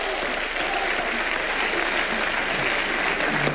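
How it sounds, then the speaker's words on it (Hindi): Loud, dense studio audience applause on a Hindi TV comedy show, a steady roar of many hands clapping throughout without a break. "इस बहू के लिए जोरदार तालियां"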